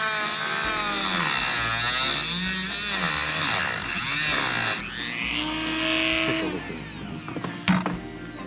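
An angle grinder with a worn-down small disc cutting into an axle U-joint, a loud continuous whine whose pitch sweeps up and down as the load changes, dropping suddenly partway through before rattling near the end.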